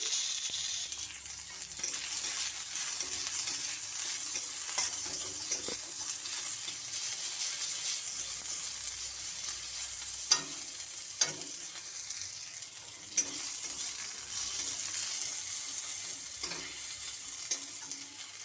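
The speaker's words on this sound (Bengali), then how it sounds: "তেল গরম হয়ে গেছে, পেঁয়াজ দিয়ে দিচ্ছি।" Onions sizzle steadily in hot oil in a wok, a dense continuous frying hiss with occasional sharp clicks and scrapes of stirring and no voices.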